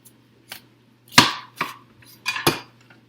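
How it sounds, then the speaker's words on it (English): A knife strikes a cutting board while halving a vegetable from Mexico for vegetable sushi rolls, giving several close, sharp chops in an irregular rhythm, with no talk. "I'm going to cut this right in half."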